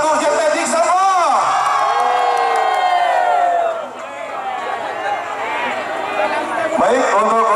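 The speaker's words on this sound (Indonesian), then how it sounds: "sekali lagi tepuk tangan untuk Jetmatic Sampang" At a Madurese kerapan sapi bull race, a large outdoor crowd cheers and shouts loudly for the team Jetmatic Sampang, with whooping voices swelling, dipping briefly and rising again throughout.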